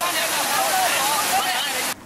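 Rushing floodwater from rivers overflowing their banks after days of heavy rain in China roars loudly and continuously, a thick churning wash that cuts off abruptly near the end.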